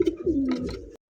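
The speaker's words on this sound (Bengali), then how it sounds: "মাশাআল্লাহ দুইটা কবুতর দেখতেই পাচ্ছেন" Two pigeons cooing close by, a pair of soft, low throaty coos with a rising-falling swell, stopping abruptly after about a second with no talk.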